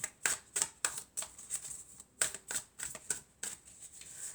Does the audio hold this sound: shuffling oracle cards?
yes